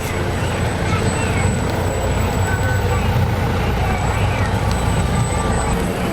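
A Pierce fire truck from Parsippany District 5 rolls past during a Christmas Santa parade in Boonton, a steady loud engine rumble with roadway noise throughout and crowd chatter underneath.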